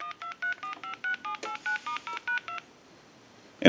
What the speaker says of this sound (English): we want to hit the redial button.